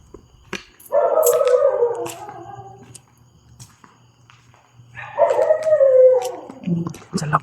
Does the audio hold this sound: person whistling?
no